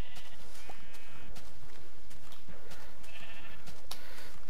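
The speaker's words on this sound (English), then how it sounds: "I found some sheep." Sheep bleating in the video game Minecraft, several short bleats spread across the moment over dense background game noise and scattered clicks, with no talking.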